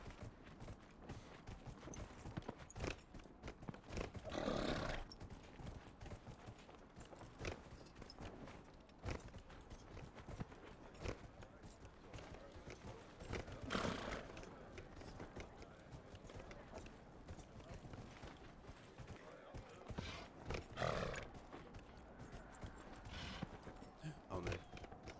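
A horse gallops in Dragon Age Inquisition, rapid hoof clip-clops running steadily with several louder bursts of thudding impact standing out over the rhythm.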